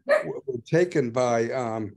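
A dog barks and yips somewhere behind a person talking indoors, the short barks mixed in under the speech rather than heard on their own.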